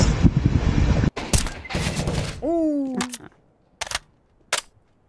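Rapid bursts of gunfire from a video game, a dense volley at the start followed by sharp separate shots and a rising whine, loud and close, then a few isolated short bangs with quiet gaps between.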